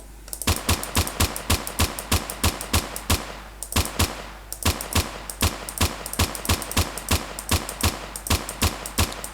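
Sharp, evenly spaced gunshots fire in quick succession as a magazine is emptied in a homemade first-person shooter game, loud and close, with a brief pause midway before the steady shooting resumes.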